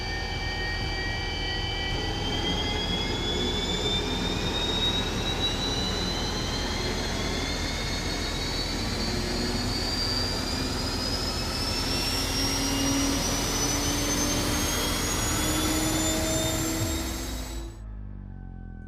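A tank's gas turbine engine runs with a steady, loud jet-like roar and a whine that slowly climbs in pitch, continuing for most of the clip before cutting off abruptly near the end.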